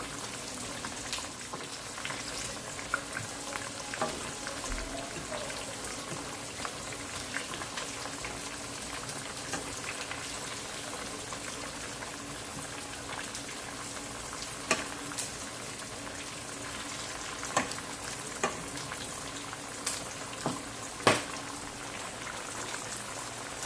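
Bacon frying in a pan, with a steady wash of sizzle and scattered small crackles and pops throughout. No one speaks over it.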